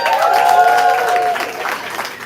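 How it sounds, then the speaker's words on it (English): Audience at a live love-and-heartbreak open mic poetry night in Houston applauding the host, a dense sustained burst of clapping and crowd noise that gradually thins toward the end, with a held musical tone underneath. "I know y'all clapping"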